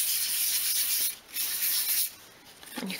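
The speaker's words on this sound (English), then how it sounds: "just use your finer grain sandpaper and just sand to remove any splinters" Fine-grain sandpaper rubbing over small wooden parts for a 1/12 scale doll's bed, close and steady rasping strokes with two short pauses, no talk.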